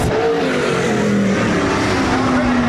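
360 sprint race cars roar across the finish line at Rapid Speedway during a heat race, engines droning loud and close with a shifting pitch as they pass.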